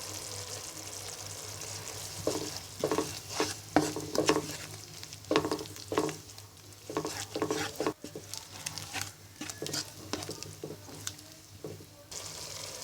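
Chili powder, cumin powder and garlic paste frying in a pan, a soft sizzle under repeated scraping and stirring strokes that come in irregular bursts, close up.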